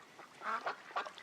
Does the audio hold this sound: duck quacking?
yes